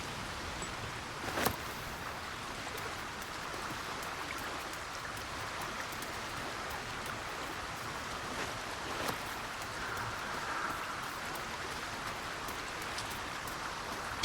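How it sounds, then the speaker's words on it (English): Steady rain hissing and pattering on a surface, continuous and moderately faint, with a couple of sharper drips standing out. "It's raining in real life."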